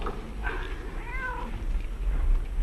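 A cat meows a few times at close range, short rising and falling cries over a low rumbling background.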